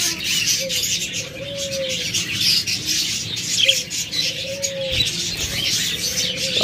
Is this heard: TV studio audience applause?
no